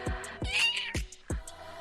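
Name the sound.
cat meowing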